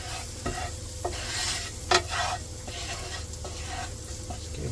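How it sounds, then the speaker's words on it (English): Garlic warming in melted butter in a pan for creamy garlic prawns, a constant close sizzle with gentle stirring scrapes and one sharp clink, and no voices. "So it only takes about 30 seconds to warm the garlic through with all that butter"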